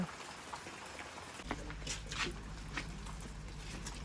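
Steady morning rain at the Lambasingi hill area falls as a continuous, even hiss. A low, constant hum joins partway through, and no one speaks.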